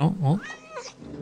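A cat in the 1979 film Alien gives a couple of short, rising meows, close and clear, mixed with a brief spoken remark from a viewer.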